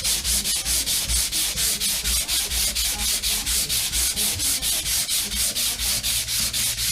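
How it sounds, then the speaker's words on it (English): Steady rhythmic hand sanding on a patched wall before painting, with quick regular back-and-forth rasping strokes, close and continuous with no talk. "Just doing a little bit of finish sanding"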